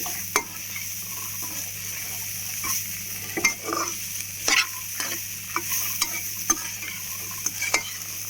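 Spicy chickpeas sizzle steadily in a frying pan while a spoon stirs them, giving scattered scraping clicks over a constant low fry, close and fairly quiet with no talking.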